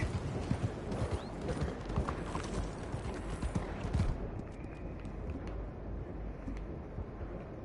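A horse in Red Dead Redemption 2 walks with steady clip-clop hoofbeats on ground, close and fairly quiet, fading to calmer footsteps and faint ambience toward the end.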